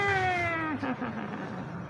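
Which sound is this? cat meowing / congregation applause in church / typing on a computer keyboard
cat meowing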